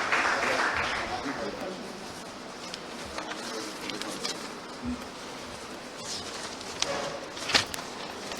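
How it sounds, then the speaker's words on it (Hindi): Audience applause in an award ceremony hall, an ongoing patter of many hands clapping at moderate level beneath a voice speaking over it, with a few sharper claps standing out near the end. "आपकी तालियों की गूंज से उन सभी को भी हम सलाम करना चाहेंगे।"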